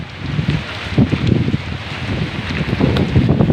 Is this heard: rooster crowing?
no